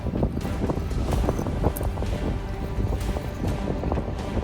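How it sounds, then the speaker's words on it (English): Strong, steady wind by the Mississippi River buffets the microphone, a constant loud rumble and roar with gusty bursts throughout and no voices. "It's quite windy."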